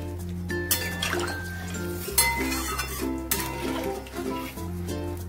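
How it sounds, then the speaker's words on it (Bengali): Water poured into a pan of frying split-pea lentil fritters, a steady liquid rush with clinks of pots and utensils and a stirring scrape, close by with no talking. "দিয়ে দিলাম পরিমাণ মতন জল।"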